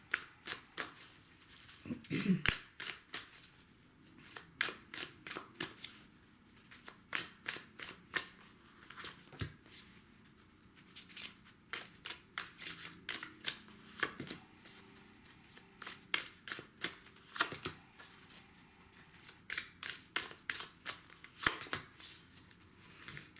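A deck of tarot cards being shuffled up close, with a long run of crisp riffling flutters and soft slaps repeating in irregular bursts. Nobody speaks.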